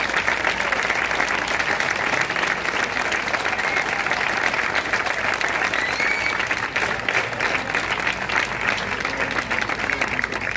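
Steady applause from an audience at an open-air evening concert in Plaza General Alsina, Huesca, dense continuous clapping held at an even level throughout, with no pauses.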